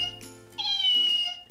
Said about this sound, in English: you can hear it meow too.